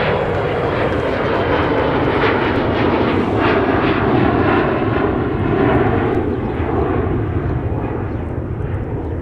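An airliner taxis at Minneapolis–Saint Paul airport toward runway 30 left. Its jet engines give a loud, steady, unbroken roar and whine that stays close for the whole stretch.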